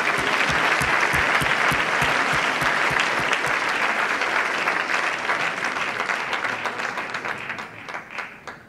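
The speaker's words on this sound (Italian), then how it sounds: "un grande applauso per De Jong" An audience applauds for De Jong, a guest at a talk who arrived from Korea with an injured leg. The clapping is steady and dense throughout, then thins out and fades toward the end.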